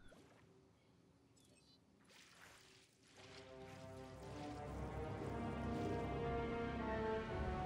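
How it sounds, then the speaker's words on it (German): Steady rain falls in the dinosaur park-building video game Jurassic World Evolution, swelling from a faint patter into a dense, continuous hiss that holds loud and even to the end, with no talk over it. "Oh, jetzt regnet's."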